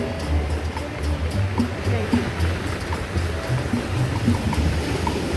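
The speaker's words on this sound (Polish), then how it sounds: "Ocean spokojny." Calm Pacific Ocean waves wash steadily on a surfers' beach at El Tunco, El Salvador, in a continuous, gentle surf roar, with no distinct crashes, heard from nearby.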